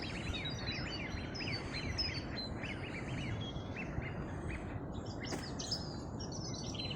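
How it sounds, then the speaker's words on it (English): Birds chirp and sing in repeated high calls at the Lyminster Knucker Hole, a wildlife haven, heard at moderate distance over a steady low background rumble. "I think you can hear the birds."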